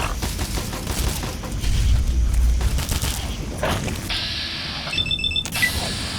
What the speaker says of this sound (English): Mark 5 turret doing work.